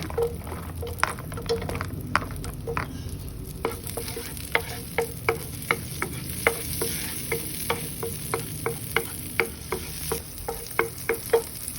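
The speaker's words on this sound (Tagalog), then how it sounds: "then saute the garlic" Garlic sautéing in a pan for potato hash with bacon: a steady sizzle of frying under a regular series of sharp scraping stirs from a utensil, close up, with no voices.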